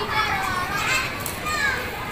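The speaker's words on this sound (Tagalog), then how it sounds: "Napaka-enjoy yung mga bata na to." Children splash and shout while playing in canal water outdoors, their lively voices and splashing forming a steady, close wash of sound throughout.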